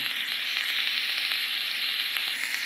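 Continuous close hissing sizzle of a vaping atomiser coil in a Cloupor Mini Plus 50 TC mod, steady and bright, with faint crackles throughout and no voices.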